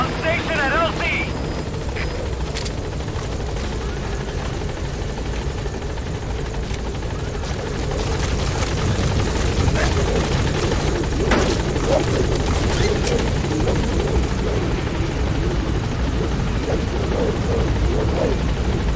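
A helicopter arriving at a landing zone in Metal Gear Solid V, a dense, continuous rotor thrum and turbine whine holding steady and loud throughout, with radio-style voices talking over it.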